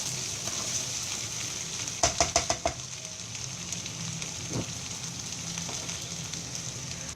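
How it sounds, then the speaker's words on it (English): Capsicum rice stir-frying in an open pan, a steady close sizzle throughout with a quick run of four or five sharp scraping stirs early on and occasional softer spatula knocks. "You don't have to cover this dish. Just keep stirring. It's like a stir fry."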